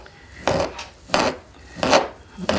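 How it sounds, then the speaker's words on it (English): Knife chopping on a small, noisy cutting board, with four loud, evenly spaced bursts of scraping, rasping contact about two-thirds of a second apart, close up and with no voices. "that's kind of noisy, isn't it, that little cutting board, huh? Listen to that."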